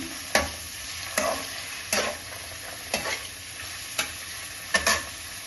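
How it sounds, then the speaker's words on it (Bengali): A spoon repeatedly scrapes and stirs carrots in a hot pan for veg manchurian gravy, about seven distinct stirring strokes at a steady pace over a continuous background sizzle, close and with no talking. "গাজর দিয়ে একটু ভালো করে নেড়ে নিলাম।"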